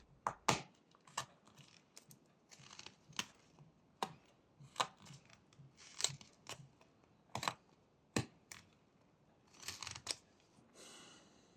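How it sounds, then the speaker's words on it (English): Knife whittling a stop cut into a small wooden pig carving: a series of sharp, crisp clicks and short scraping cuts in an irregular rhythm, close and quiet, with no talking. "behind these limbs we're going to make a stop cut"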